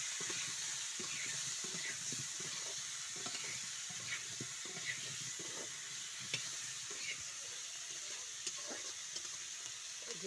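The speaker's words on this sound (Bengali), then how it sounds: "এই পরিমাণ মতো লবণ, আর হলুদ দিয়ে আলুটা ভেজে নেব।" Potatoes frying with salt and turmeric in a pan for mutton curry, a soft, steady sizzle with repeated light stirring clicks and scrapes at an even pace, fairly quiet overall.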